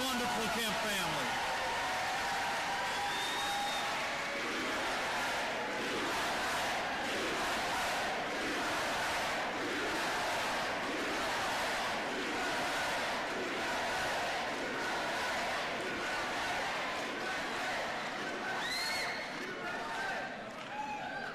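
Large crowd cheering and applauding for the Kemp family, a sustained roar of claps and shouts held steady at moderate distance for the whole stretch, with whistles rising near the end.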